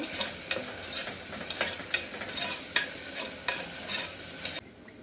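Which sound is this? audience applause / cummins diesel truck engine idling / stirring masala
stirring masala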